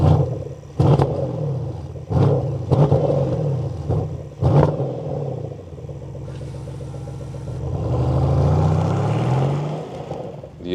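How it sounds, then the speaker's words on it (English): A deep Porsche Panamera V8 exhaust barks in several sharp revs, then settles into a rumbling idle before swelling into a louder, rising roar. "standing here at the exhaust, the question is, what's the sound here of the V8?"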